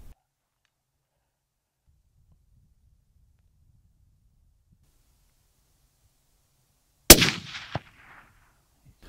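Rifle shot at a fox on the Isle of Skye at night: a long near-silent wait, then one sharp loud crack followed a moment later by a distinct faint thud of the bullet striking, with a brief decaying tail.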